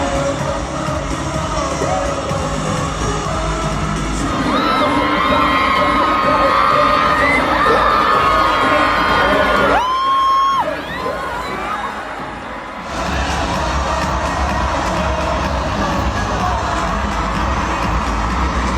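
A stadium crowd at a concert in Las Vegas screams and cheers loudly and continuously, with piercing whoops throughout and a brief dip near the middle before the roar resumes.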